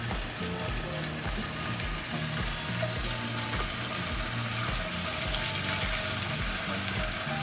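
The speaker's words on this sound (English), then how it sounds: "So we're going to put one in, and you'll hear the sizzle." Rouladen sizzle in a hot frying pan, a steady crackling hiss that runs the whole time over a low rumble in the background.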